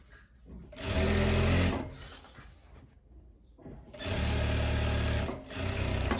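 A sewing machine stitches a pocket onto spandex trousers in two loud, sustained runs of rapid mechanical whirring, separated by a quieter pause with light handling noise.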